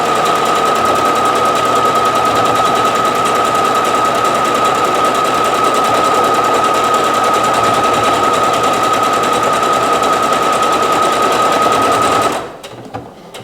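A sewing machine stitches a buttonhole on a button-up blouse, running as a loud, steady, rapid mechanical whir for about twelve seconds before stopping abruptly near the end.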